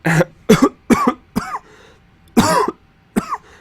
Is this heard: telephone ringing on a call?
no